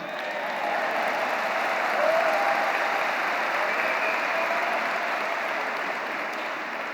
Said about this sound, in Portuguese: Vai, bate a palma aí.